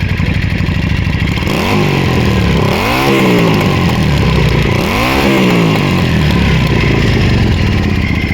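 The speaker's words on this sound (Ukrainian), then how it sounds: "Байк набирає обороти." A close Yamaha 535 V-twin motorcycle engine idles loudly, then revs up twice in quick swelling bursts before dropping back.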